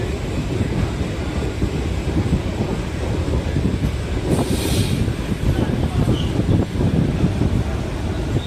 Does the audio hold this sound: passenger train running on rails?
yes